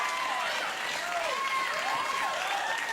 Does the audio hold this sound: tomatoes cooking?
no